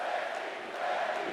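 An arena crowd roars and cheers throughout a wrestling match in the video game WWE 2K24, a dense continuous wash of noise at steady loudness.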